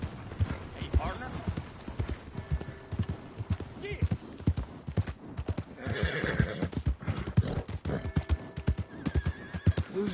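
Horse hooves clip-clopping in Red Dead Redemption 2, a steady rhythm with occasional whinnies, under someone talking throughout.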